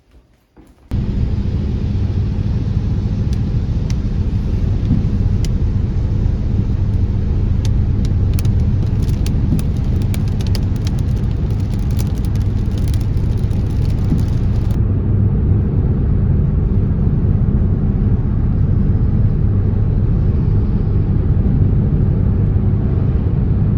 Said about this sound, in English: let's enjoy that drive as we drive up there